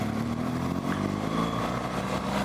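A stock, unmodified 2017 BMW R1200 GS Rally motorcycle engine runs with a steady, low throbbing drone, close and continuous, with no clear revving and no voices.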